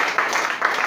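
Church congregation applauding during a worship service, a steady close wash of clapping filling the short moment without a break.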